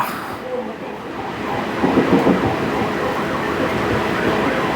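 A Bangkok Gold Line elevated train rumbles through a turn, its steady wheel and motor noise carrying on throughout with a brief squeal-like rise midway, heard from inside the car.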